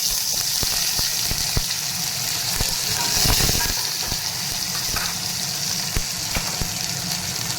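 Curry leaves hit hot oil already holding spluttered mustard and cumin seeds, giving a steady close sizzle dotted with regular sharp pops and crackles. A brief burst of louder spattering rises partway through.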